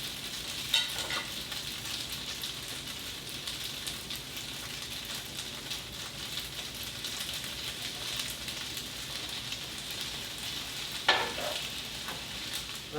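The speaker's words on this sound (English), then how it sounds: "that's when I add in the soy sauce" Food sizzles steadily in a pan once soy sauce is poured in, a continuous hissing fry with occasional brief pops and clinks, and no talking.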